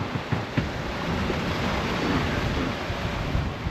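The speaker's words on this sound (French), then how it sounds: "Il y a encore des belles vagues" Ocean surf rushes and roars continuously in a gale in the middle of the Atlantic, with wind buffeting the microphone, a broad steady wash of waves close by.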